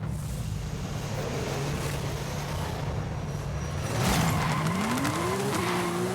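A racing car engine in Forza Horizon 5 roars steadily, then revs up sharply with rising pitch and tire squeal near the end, loud and with no voices.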